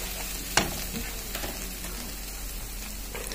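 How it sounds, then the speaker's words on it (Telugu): Masala frying in hot oil for a mixed vegetable kurma, heard as a soft, steady crackling sizzle with a sharp click early on, faint and without voices. "మసాలా అంతా ఇది కూడా మంచిగా వేగాలి."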